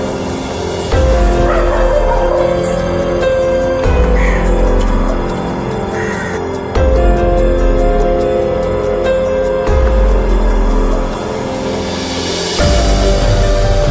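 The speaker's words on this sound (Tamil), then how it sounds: "நாய் வேற கொலைக்குது." A dog barks and yips repeatedly in loud, close bursts about every three seconds, with brief gaps between them.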